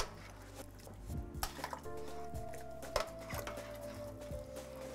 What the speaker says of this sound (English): You're going to add your fava beans. Again, we're going to give it a stir.